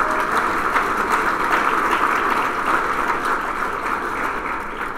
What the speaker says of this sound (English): Would you all please give them a round of applause?